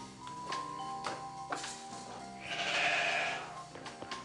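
Sheep bleating in short calls scattered among ticking and farmyard clatter, with a longer, louder bleat near the end, fairly faint overall and with no voices.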